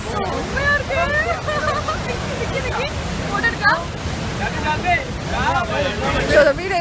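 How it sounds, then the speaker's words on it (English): Steady, loud roar of the massive, powerful Athirapally waterfalls, a continuous broadband rush with a voice talking over it. "This is the famous Athirapally waterfalls, and it's so massive and it's so powerful"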